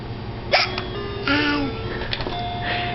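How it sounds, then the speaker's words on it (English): A small child hiccups a few times in quick squeaky gulps, close by, alongside faint babbling and a bit of adult speech in a quiet room. "Do you have the hiccups?"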